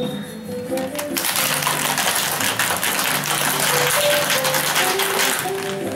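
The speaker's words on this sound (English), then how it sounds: "shake the cocktail." A cocktail shaker filled with ice, coconut water and pineapple juice is shaken hard, producing a loud, continuous rattling of ice against metal for several seconds over faint background music.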